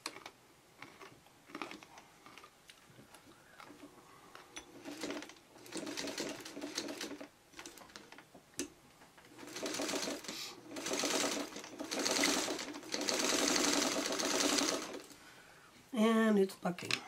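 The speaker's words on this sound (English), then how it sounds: "So I'm going to do my stay stitching about 1/2 inch in," Sewing machine running stay stitches about half an inch in around the edge of a fabric coaster, steady whirring bursts that start and stop repeatedly, with a person talking between and over the stitching runs.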